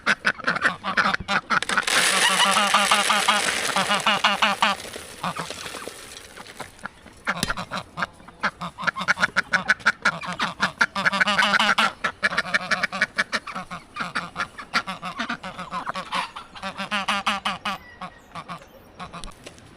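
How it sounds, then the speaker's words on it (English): Ducks quack loudly and repeatedly in rapid bursts, a busy flock calling close by, with brief pauses between clusters of harsh nasal calls. "Gdje su moje patkice?"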